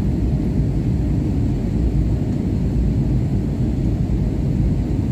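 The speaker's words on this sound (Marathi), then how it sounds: "सव्वा 2 तासाच्या प्रतीक्षेनंतर हळूहळू आमचे विमान पृथ्वीच्या दिशेने जायला लागले" Steady, loud low roar of a passenger airplane cabin as the plane descends toward Chandigarh Airport, a constant engine drone with no breaks and no voices.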